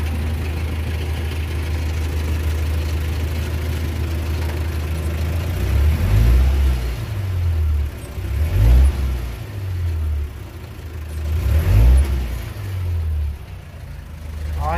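A car engine is revved to test a rewound rotor alternator, the low engine rumble steady at first and then rising in three or four separate rev bursts close by, with no talking.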